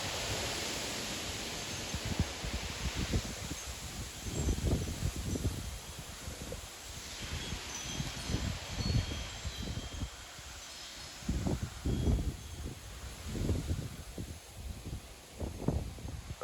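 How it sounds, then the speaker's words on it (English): Strong thunderstorm wind gusts of around 50 to 60 mph tearing through leaves in the evening, heard as repeated loud rushing bursts and low buffeting against the microphone, swelling and fading in waves over a steady hiss. "Look at those winds!"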